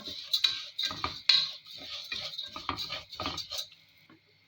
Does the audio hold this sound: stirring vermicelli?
yes